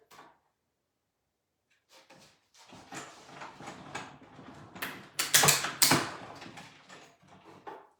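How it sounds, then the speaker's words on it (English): A die-cut machine cranks stamped cardstock plant pieces through its rollers, making a grinding, creaking mechanical rumble that builds after a quiet start and peaks in louder scraping surges before tapering off. "So now I'll pull this over to my die cut machine. I'll die cut those and be right back with you."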